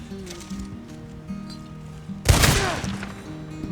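A single loud gunshot in Red Dead Online with a sharp crack and a short echoing tail, heard over soft background game ambience.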